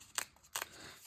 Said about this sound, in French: je le déchire à un autre endroit